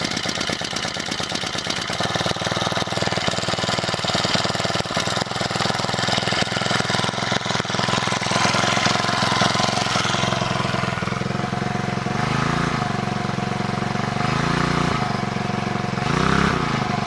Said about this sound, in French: ça fait trop bizarre d'avoir un bruit de 4 temps là